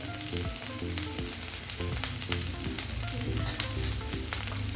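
Spice masala with turmeric, homemade garam masala and onion-garlic masala sautéing in a pan, giving a steady close sizzle with light crackles and occasional stirring scrapes throughout, no voices.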